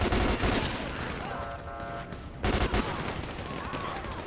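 Sustained gunfire in GTA 5 during a police gang unit patrol, with dense, loud bursts of shots that keep overlapping, a brief dip, then another heavy barrage, all close and filling the scene.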